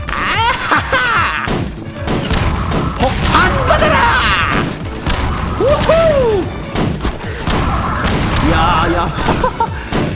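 Junkrat's explosive weapon fired against Combine enemies in Garry's Mod, a steady barrage of thumping blasts and crashes heard under excited talk, with a whistling projectile sound midway.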